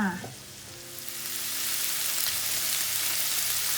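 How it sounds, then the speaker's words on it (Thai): Onions stir-fry with pork in a hot pan, giving a steady, loud sizzling hiss that swells after a brief quieter moment, with no talking. "ใส่ หอมใหญ่นะคะ ผัดด้วยกันให้หอมเลยค่ะ"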